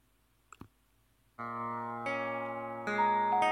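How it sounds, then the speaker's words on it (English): After a couple of faint clicks, sustained electronic synth tones enter, generated from Wikipedia's recent changes feed, with new notes layering in at intervals to build a soft, ambient chord. "Stephen Laporte and Mahmoud Hashemi, put Wikipedia's recent changes feed to music"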